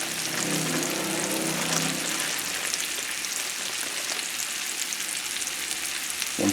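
Butternut squash and bacon sizzle and fry in a pan with dark brown sugar added, a steady loud crackling hiss that fills the whole stretch with no talking.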